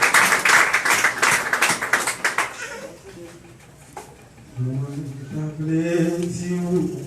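Applause in a church service, a dense burst of clapping for about three seconds that fades out, followed by singing or chanting voices.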